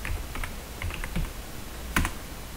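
Keystrokes on a computer keyboard while drafting in BricsCAD CAD software, a handful of separate clicks spread irregularly across a quiet room, with one sharper, louder key press near the end.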